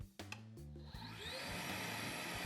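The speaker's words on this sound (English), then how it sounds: "this vacuum delivers some good power given its size" Shop vacuum roaring steadily as it draws air through a new cyclone dust collector and hose, a hum with some clunks at the start, then a smooth, loud and continuous rushing whine.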